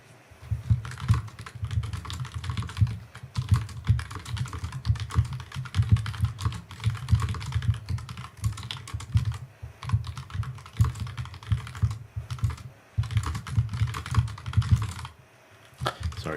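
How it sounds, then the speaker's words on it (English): Steady, close typing on a computer keyboard, a continuous patter of key clicks with occasional brief pauses, heard alone without talk. "Sorry for the typing."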